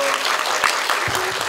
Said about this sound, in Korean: 오늘 함께 해주신 우리 박상영 작가님 큰 환영의 박수 부탁드립니다